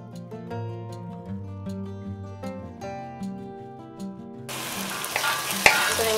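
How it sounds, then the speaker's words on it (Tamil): Onions and garlic sautéing in a pan: after several seconds of tonal music, a bright, steady sizzle rises, with a spoon occasionally scraping through it. "வெங்காயத்தை போட்டுட்டு நல்லா வதக்கிட்டோம்"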